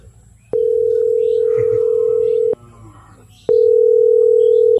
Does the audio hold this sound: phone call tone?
yes